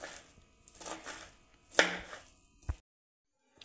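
Fenugreek leaves being chopped very finely with a knife on a board, a quick run of close, crisp blade strikes followed by a couple of louder chops, then silence.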